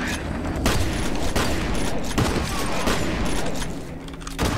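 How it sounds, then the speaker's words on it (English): A grenade blast shattering wooden planks in the shooter game F.E.A.R., a loud, dense burst of cracking and crashing debris that stays harsh and continuous throughout, with gunfire-like impacts mixed in. "Throw another grenade to break some more planks."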